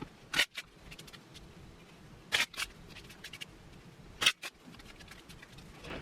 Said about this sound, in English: here is my deck. I'm going to shuffle this up